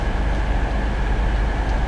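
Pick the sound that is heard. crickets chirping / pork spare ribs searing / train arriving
train arriving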